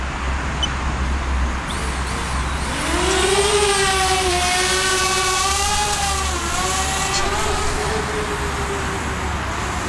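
A DJI Spark drone's rotors spin up into a rising whine on takeoff, then hold a steady high buzz over constant background noise.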